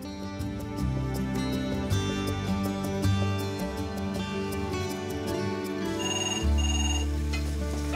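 A telephone ringing, with an electronic ringtone that repeats a melodic pattern steadily for several seconds, fairly loud and with no talking over it.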